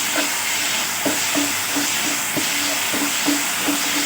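Turmeric and chilli powder frying in oil for a fish curry make a steady sizzling hiss close by, with a stirring utensil scraping and knocking the pan in a regular rhythm.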